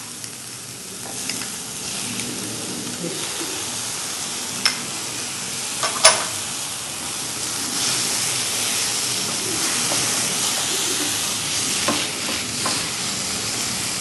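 Finely chopped tomatoes frying in a pan as a spoon stirs them, a constant sizzling hiss broken by a few sharp scrapes and clicks of the spoon against the pan.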